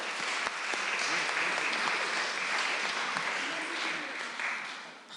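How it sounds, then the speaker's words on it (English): A congregation in Loanhead Parish Church gives a sustained round of applause, dense and steady for several seconds before tapering slightly at the end. "Can we give them a round of applause?"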